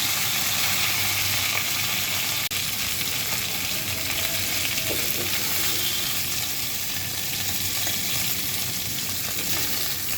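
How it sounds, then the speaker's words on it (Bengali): Pieces of pua fish, rubbed with a little turmeric and salt, fry in hot oil. A steady, close sizzle with crackling hiss continues evenly the whole time, with no voices. "তাই আমি একটু সামান্য পরিমাণ হলুদ আর লবণ মাখিয়ে নিয়ে তেলে ভেজে দিচ্ছি"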